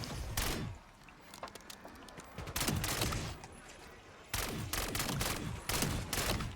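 Submachine gun fire in Call of Duty Black Ops 7 Zombies comes in repeated sharp bursts of rapid shots, with pauses between volleys and no talk over it.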